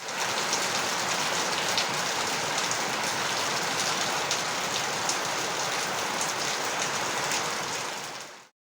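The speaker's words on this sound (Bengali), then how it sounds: "আর বাড়ি পৌঁছানো মাত্রই খুব জোর বৃষ্টি শুরু হয়।" Heavy rain pours down steadily, a dense, even hiss of drops on surfaces that holds at the same level throughout before cutting off abruptly at the end.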